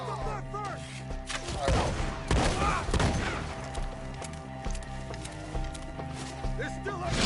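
Gunfire in Red Dead Redemption 2, with several sharp shots cracking out in bursts amid a busy game mix, horse hooves and shouted talk over the action.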